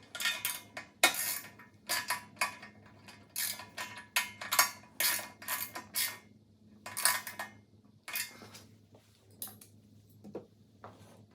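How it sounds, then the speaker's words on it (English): Ratcheting clicks and metallic tool rattles come from tightening the 10 mm top bolt on a new tank bracket of a Coleman BT200X minibike. The bursts are close, moderately loud and irregular, with brief pauses and no talk. "now the bracket's on, we'll tighten the top bolt."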